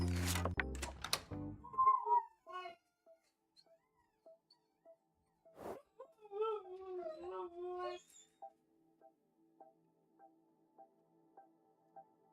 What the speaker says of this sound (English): we got a husky and she howls all the time now